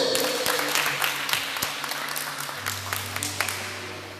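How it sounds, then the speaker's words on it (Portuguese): Church congregation applauding during an evening service, a room of scattered hand claps with some distinct individual claps, moderately loud and fading slightly as a low tone enters. "Aplauda mais uma vez."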